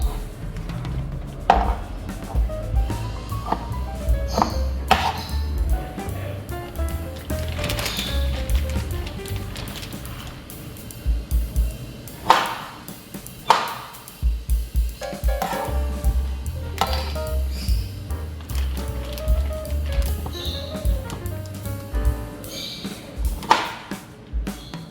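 Knife chopping ripe fruit on a board for blended juice, a series of irregular sharp thuds and clicks repeating at close range over a low background rumble.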